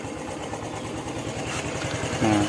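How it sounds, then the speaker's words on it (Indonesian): A motorcycle engine that is hard to start runs steadily after being kick-started, with a loud, continuous, throbbing idle close by. "Kalau kita engkolnya kenceng, nah ini baru bisa nyala."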